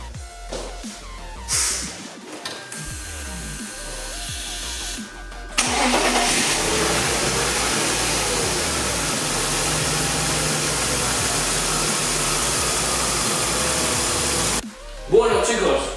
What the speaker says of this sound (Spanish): vamos a hacer un call start. A ver si arranca la primera.